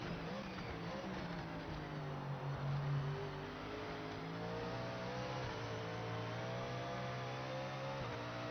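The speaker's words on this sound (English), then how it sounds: "You can actually hear it in the engine" A race car engine in the Project Motor Racing video game, revving and holding a steady high drone as the car accelerates through turns, loud and continuous with no talk.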